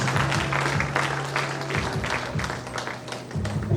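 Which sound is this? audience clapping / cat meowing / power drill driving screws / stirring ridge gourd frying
audience clapping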